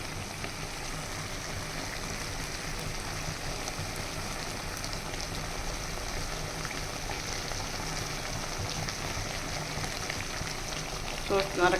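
Green chillies fry in hot oil in a pan, producing a steady, dense crackling sizzle like rain that holds evenly throughout, with a few louder pops right at the end.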